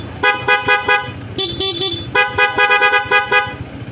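A Honda PCX160 hybrid scooter's stock horn honks repeatedly in short rapid beeps, then a few quick higher toots, then more steady rhythmic honking, loud and close.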